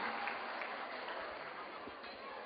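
An audience at a community association evening in France applauds its association president, a steady wash of clapping heard from the room with a voice faintly over it.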